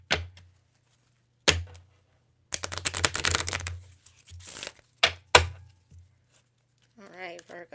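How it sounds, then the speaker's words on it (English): A deck of tarot cards is shuffled in several quick bursts of riffling and crisp flicking close up, with short pauses between them and a voice talking briefly near the end. "let's shuffle this one more time"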